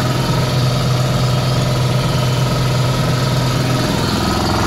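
An air compressor runs steadily on power from an 8000W inverter while pumping to high pressure, a loud continuous motor drone with a low throb that stays constant throughout.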